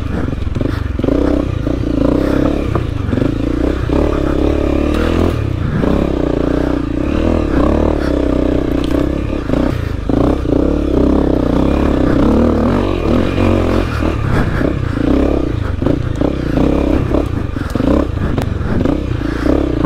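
A Honda CRF250L dirt bike rides a tight trail over roots and rocks in cottage country. Its engine drones steadily close up for the whole stretch, with rattling and scraping from the suspension and wheels over the rough ground.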